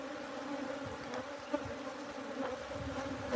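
Bees buzz steadily around bee boxes baited with commercial lure and lemongrass, a dense continuous insect hum close by, with a few louder passes as individual bees fly near.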